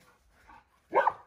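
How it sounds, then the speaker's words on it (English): One sharp, close dog bark rings out near the end after a stretch of faint shuffling and near silence. "Oh my God, I love this dog."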